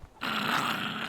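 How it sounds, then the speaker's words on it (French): Dogs growl in a survival video game set on a tiny island. A single low, rough growl starts suddenly and holds steady for about a second, loud and close. "On va esquiver les chiens,"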